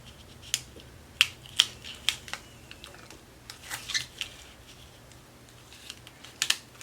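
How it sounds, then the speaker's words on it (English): A Brother Scan N Cut machine cutting vinyl, giving a series of quiet, sharp clicks and ticks at an irregular pace over a faint mechanical hum. "It actually does a really good job cutting out the vinyl."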